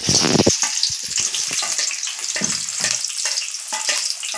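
Chopped onions hit hot oil in a pan and fry with a loud, steady sizzle and crackle, close up and constant throughout, with no talking.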